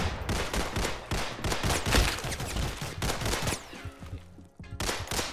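Gunshots in the Roblox game Criminality: dense, repeated close shots fire in quick bursts and fusillades, loud and sharp, with a short lull near the end before a few more shots ring out.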